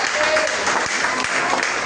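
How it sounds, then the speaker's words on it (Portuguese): A church congregation at an evening children's service applauds, with a short burst of dense clapping that fills the room for about two seconds. "Quem pode aplaudir o Rei Jesus nessa noite?"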